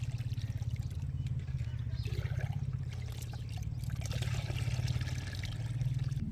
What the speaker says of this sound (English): Once diluted, pour it around the base of tomato plants.